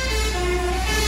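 A large Damri bus passes close by at a roadside ticket stop, a loud, steady engine drone carrying a sustained horn-like tone, brief and without talk.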